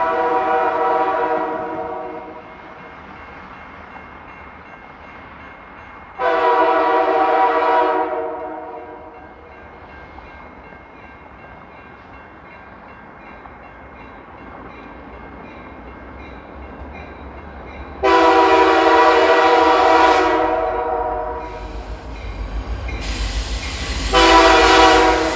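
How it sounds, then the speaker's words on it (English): A freight train with two SD75I locomotives leading a BNSF ET44C4 on M337 passes on a snowy Northern Illinois crossing at Kishwaukee Street. Several loud, long horn blasts sound over a steady rolling rumble of wheels and cars. "A pair of SD75Is was leading a BNSF ET44C4 on M337."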